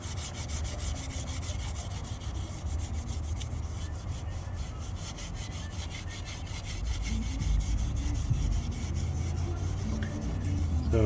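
Steel wool scrubbing a used Ford F150 wheel to lift stubborn road grime, a steady close abrasive rubbing that continues without pause and grows slightly louder and heavier toward the end, with no talking.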